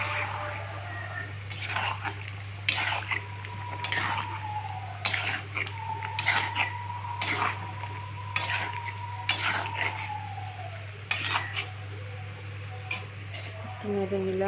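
A spoon stirs mutton in a metal pot, sharp scraping clinks recurring irregularly over a steady low hum, with a sustained tone running beneath.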